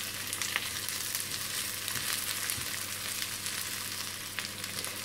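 Onion fries in a pan, a steady, soft hiss of sizzling oil with faint crackles throughout, no voices over it.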